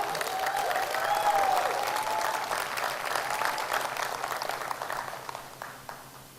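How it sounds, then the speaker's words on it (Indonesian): Audience at a motivational talk breaking into applause, a sustained wash of many hands clapping with some crowd murmur, fairly distant, tapering off near the end. "Tepuk tangan untuk Pak Andi Sok."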